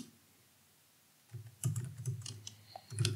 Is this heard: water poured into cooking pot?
no